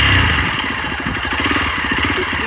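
Engine of an MX off-road motorcycle running steadily up close, a loud continuous throaty drone with a pulsing low rumble and no voices.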